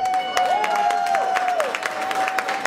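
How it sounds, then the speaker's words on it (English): Audience applause for Lenny Green at a televised show, light scattered clapping heard alongside a steady sustained tone that glides and holds throughout, with faint crowd murmur. "So let's give him a round of applause."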